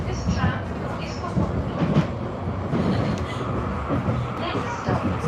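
Inside a moving Nottingham tram, a steady rumble of wheels on rail with rhythmic clicks and rattles continues throughout, while people talk in the background.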